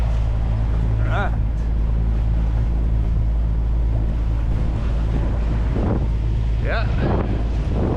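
Wind of 7 to 8 knots buffeting a sailboat at sea, a constant low roar rumbling over the microphone, with brief voices speaking twice.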